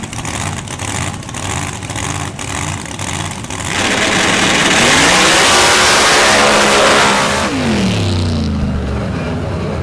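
A dirt drag racing car engine at a night championship round goes from a rough idle to a loud sustained roar as it accelerates down the track, then the pitch sweeps and fades as it passes.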